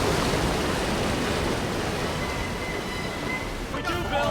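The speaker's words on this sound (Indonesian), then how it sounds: "air terjun sudah menunggu mereka" Waterfall ahead of a boat on a jungle river in a film scene, a loud, dense rushing roar of water filling the whole stretch, with voices speaking briefly over it near the end.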